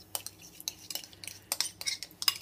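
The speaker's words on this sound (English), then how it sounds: "Just with a spoon, you just mix it up." A spoon scrapes and clinks against a bowl in quick irregular strokes, stirring thick pearlized icing, close up over a faint low hum.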